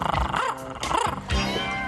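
A person imitating a small dog, giving a few short yappy barks and growly yips in quick succession, close and fairly loud.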